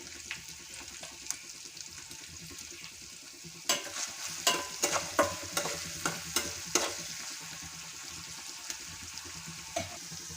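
Onions frying in oil get stirred with a spoon, a soft continuous sizzle broken midway by a burst of several sharp scraping strokes against the pan, then settling back to quiet frying.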